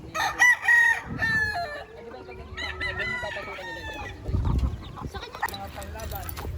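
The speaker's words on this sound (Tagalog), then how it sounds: "Napakadaming manok dito, napakalawak no." Chickens and roosters in a backyard, with repeated crowing and clucking close by and people talking over the birds throughout.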